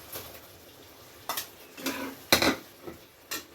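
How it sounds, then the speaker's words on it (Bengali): Paneer goes into bubbling gravy in a pan in a few sharp clatters and knocks of utensil against metal, with soft sizzling between them and no talking. "ভালোভাবে ফুটে গেছে এবার দিয়ে দিচ্ছি পনির"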